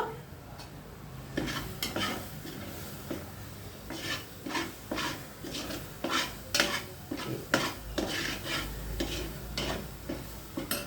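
A spoon scrapes and stirs repeatedly in a pan of cooking ginger barfi, with soft sizzling beneath the rhythmic strokes.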